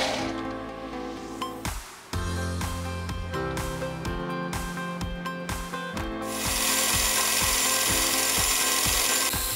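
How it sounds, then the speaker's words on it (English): Drilling and then tapping a clock arbor in a home machine shop: a steady, tonal machine hum runs first, then gives way to a rhythmic series of cutting strokes and brief pauses, all close and without talking. "I then drilled and tapped the arbor to accept that threaded insert."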